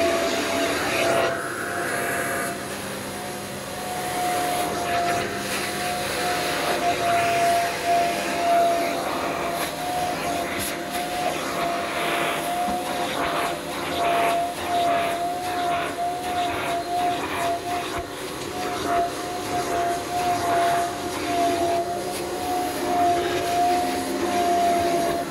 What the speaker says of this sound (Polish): Włączamy pompę wody, akurat.